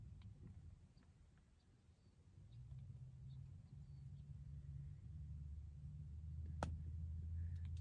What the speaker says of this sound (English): Can you hear that? 2 cars passing by.